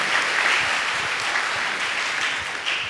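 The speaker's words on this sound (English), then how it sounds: "Clap hands for him." A church congregation at a confirmation Mass claps for a boy, a sustained, even wash of many hands applauding with no talk.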